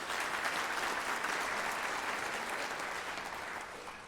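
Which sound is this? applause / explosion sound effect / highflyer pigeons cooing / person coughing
applause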